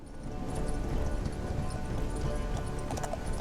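Horse hooves clip-clop steadily and close up while riding in the open-world RPG Ertugrul of Ulukayin, with a dense low rumble of game ambience continuing underneath throughout.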